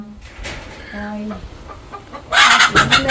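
Hens cluck in short bursts at their egg-laying spot in a Jaffna yard, moderately close, followed by a louder rustling flurry of movement near the end.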